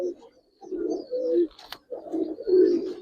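Giribaz pigeons coo at a pigeon farm in soft, throaty rolling phrases, close by and repeating in two main bursts with a brief pause between them.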